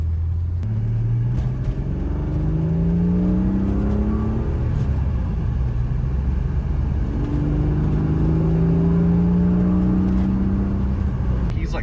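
A 1995 BMW M3 engine accelerates hard through the gears, its deep drone climbing in pitch, dropping at each shift, then climbing again, heard from inside.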